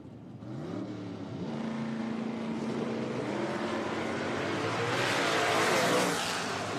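AMX drag race car running down the strip at an IHRA Spring Nationals event at National Trail Raceway, chasing a Corvette and a jet-powered Mustang; a loud sustained engine roar that rises and swells toward the end, with no speech.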